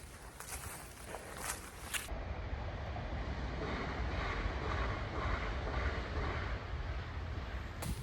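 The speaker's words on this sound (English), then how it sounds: "Another regional train just passed by." A regional train rolls past on railway tracks near the German–Dutch border, a steady close rumble and rush that swells in after about two seconds and holds to the end, with wind and light footsteps mixed in.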